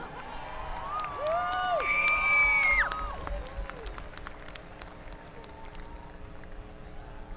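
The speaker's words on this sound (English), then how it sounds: "How about a round of applause, Norwalk, for the Queen of Diamonds?" Drag strip crowd at an NHRA Division 3 Friday night meet in Norwalk applauds and cheers, loud and swelling around a mid-clip peak with whistles and tonal sweeps over it, then fading to a steady softer murmur.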